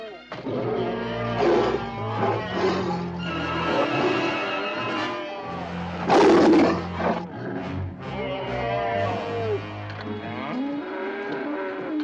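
A tiger roars and growls in long, deep, drawn-out calls, repeated over several seconds, with one louder rough roar in the middle.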